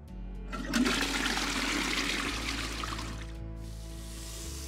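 A toilet flushes in a home bathroom, a loud sustained rush of water that swells within the first second and drains steadily, ending with a refill trickle and a low hum.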